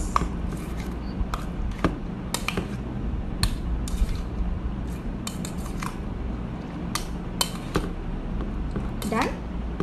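A spoon stirs mixed fruit with whipping cream in a bowl for a Filipino fruit dessert, giving repeated close clicks and soft scraping taps over a steady background murmur.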